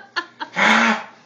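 A small child imitates a goose honk, two short squawks followed by a long, loud, strained honk that fades near the end.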